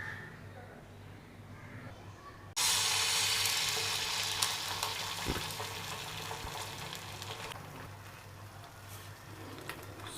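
Egg sizzling as it toasts in a pan for a vegetable cheese sandwich, a steady loud frying hiss that starts abruptly and holds, with faint clatter.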